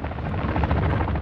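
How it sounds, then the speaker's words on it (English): An extract helicopter in the video game Call of Duty DMZ throbs with a loud, continuous rotor chop, close and steady with no talk over it. "Is that an extract helicopter?"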